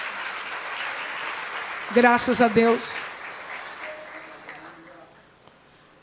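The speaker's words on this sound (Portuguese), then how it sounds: "Você consegue aplaudir ao Senhor pela sua palavra agora?" A church congregation applauds at moderate level, under a voice that briefly exclaims loudly in Portuguese; the clapping then thins and fades away toward the end.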